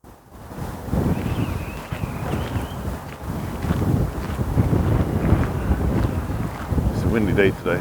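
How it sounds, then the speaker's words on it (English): Wind gusting outdoors on a blustery day at Osterley House, a historic country house, a steady broadband rush and buffeting against the microphone through the whole stretch, with a voice talking faintly underneath. "It's a windy day today."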